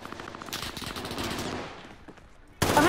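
PPSh submachine gun firing in a video game, a sustained rapid burst of automatic fire that fades, then a loud fresh burst near the end.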